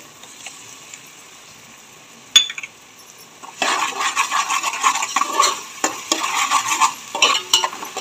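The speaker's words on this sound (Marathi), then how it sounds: "छान प्रकारे फिरवून घेऊ। आलं लसूणची पेस्ट टाकून घेते।" Ginger garlic paste is stirred into chopped onion in a pan for veg fried rice: a sharp clink, then a steady, fairly loud scraping and sizzling that runs on with uneven strokes.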